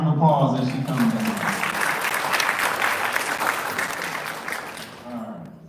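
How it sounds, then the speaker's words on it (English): Steady applause from an audience fills the room for several seconds, loud and continuous, with a voice heard briefly at the start and end. "Give her a round of applause as she comes down."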